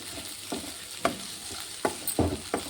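Mixed vegetables with boiled cluster beans stirred in a frying pan, a soft sizzle under several distinct scraping spoon strokes spaced irregularly, close and moderately loud, no talking.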